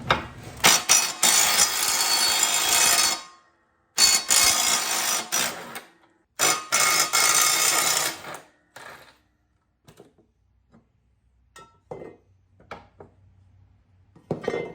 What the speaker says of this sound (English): I have one of those sockets here that I'll just use on my impact to take these off.